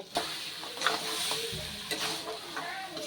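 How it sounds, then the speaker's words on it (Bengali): Mutton leg pieces stir-fried with spices, a close sizzle broken by scraping spatula strokes and a few metallic knocks against the pan. "এবার এই মশলা দিয়ে আর টেংরি দিয়ে কিন্তু খুব ভালোভাবে কষিয়ে নেব"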